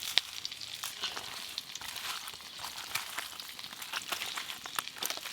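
Whole spices frying in hot oil in a home kitchen, a steady faint crackle and sizzle with scattered pops throughout, with no voices.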